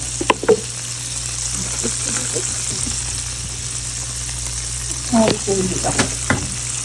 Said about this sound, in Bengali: এটাকে ভালো করে এক থেকে দেড় মিনিট আমি কষিয়ে নেব